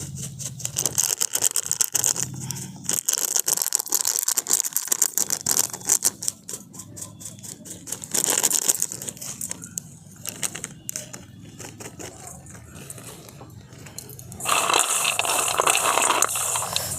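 Crispy fried kaju nimki, small diamond-shaped flour snacks, are crunched and rustled up close in a rapid series of dry, crackling bursts. The crunching comes in loud stretches separated by a quieter middle section.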